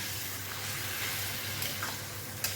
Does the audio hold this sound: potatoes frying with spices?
yes